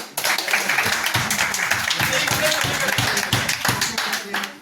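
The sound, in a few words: group clapping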